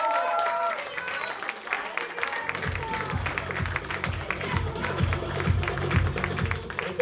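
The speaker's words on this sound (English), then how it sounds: "Let the music keep going and the applause keep going as well." Audience applause for a standing ovation at a transformation-stories event, steady clapping throughout with music playing along and some chatter underneath.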